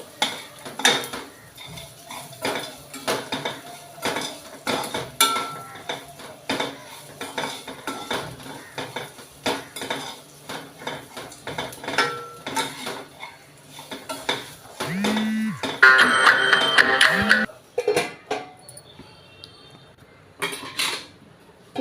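Ivy gourd and peanuts, salted, fry in a pan while a spoon stirs and scrapes against the metal, making repeated clinks and rattles over a soft sizzle, with a louder clattering burst near the end.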